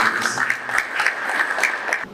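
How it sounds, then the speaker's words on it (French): Applause from an audience honouring a professor at a company's 30th anniversary event, steady dense clapping with bright, brisk texture lasting about two seconds before tapering off. "Est-ce qu'on peut applaudir pour le professeur Jean-Marie Kaïbe"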